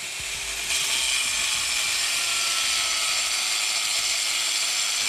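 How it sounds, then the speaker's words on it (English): A 7-inch die grinder cuts control joints into a concrete deck, a steady high abrasive whine that grows louder after the first moment and holds unbroken, close and with no talking. "Use the 7-inch die grinder for the control cuts."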